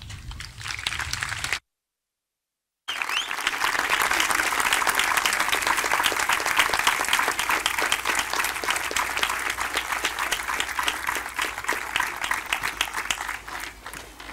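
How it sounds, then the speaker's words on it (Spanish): A concert audience in Quintanar del Rey welcomes its municipal music band with loud, sustained applause, a brief gap of silence early on, then thick clapping that runs on for over ten seconds before slowly thinning. "Recibamos con un fuerte aplauso a nuestra banda de música"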